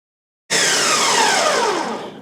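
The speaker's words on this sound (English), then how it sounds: "we're going to add the water and then blend again" A kitchen blender starts abruptly and runs loud and steady, whirring through bread dough with added water for no-carb bread, a close, high-pitched grinding drone that weakens slightly near the end.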